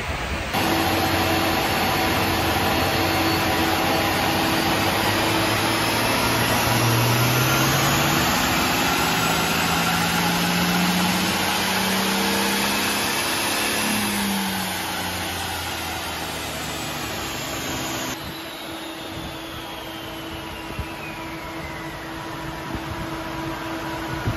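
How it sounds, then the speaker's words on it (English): A Toyota Land Cruiser 300 series fitted with an AFE intake runs on a dyno, a steady loud engine drone and whine with a pitch that climbs and then eases off, close and continuous, with no talking. "We've got her up on the dyno."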